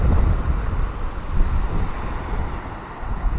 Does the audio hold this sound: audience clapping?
no